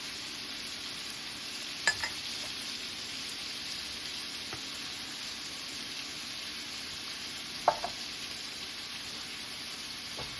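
T-bone steak sizzling in a skillet, a steady soft frying hiss throughout with a couple of faint clicks, fairly quiet and without talk.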